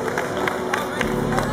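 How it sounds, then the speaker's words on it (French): Audience applause at a cosplay parade during a manga and anime convention, a steady crowd of clapping with rhythmic bursts, continuous and moderately loud, with a voice talking over it. "On peut l'applaudir bien fort."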